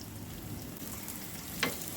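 Onions fry in rice bran oil in a pan with a low, continuous sizzle, close and even, and a single sharp clink of a utensil near the end.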